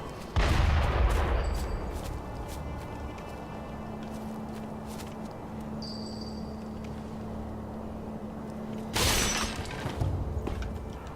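Two loud, booming blasts from a cannon in the video game Sekiro, one near the start and another near the end, separated by a quieter stretch of ambient game sound.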